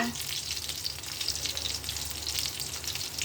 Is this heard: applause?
no